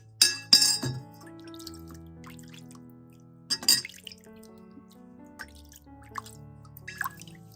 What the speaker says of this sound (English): rinse the knife and wrench with water, completely removing any remaining vinegar smell and foam